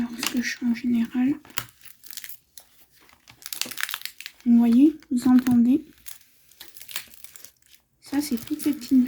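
Paper crinkles in short bursts as it is smoothed back around a doll, indoors and close up, alternating with someone talking.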